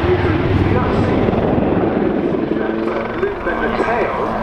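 An Army Air Corps Lynx helicopter flies a loop at the Farnborough airshow. Its loud, steady rotor drone and thudding blades fill the whole stretch, with a commentator talking over it throughout.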